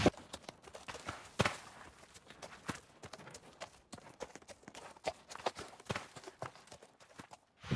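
Hooves of a small horse clip-clop steadily in a video game, an irregular run of sharp clops that quicken and slow, fairly close, with no talking over them.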